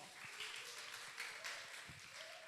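Audience applause at an Indonesian morning talk event, a steady wash of many hands clapping from a crowd, moderately faint and continuous throughout.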